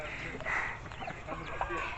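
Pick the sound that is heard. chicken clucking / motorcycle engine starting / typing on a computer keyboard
chicken clucking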